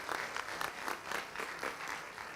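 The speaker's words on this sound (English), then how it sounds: "So I want to clap for her right now." An audience at a school district board meeting applauds, a sustained, moderately loud patter of many hands clapping together with a loose, pulsing rhythm.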